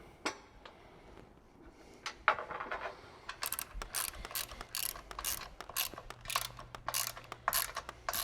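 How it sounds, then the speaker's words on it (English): A ratchet tightens the mounting bolts on a winch fitted to a Jeep Gladiator winch bumper, starting with scattered clicks, then settling into fast, crisp ratcheting strokes that repeat close up. "Get all 4 of these started before we tighten them down"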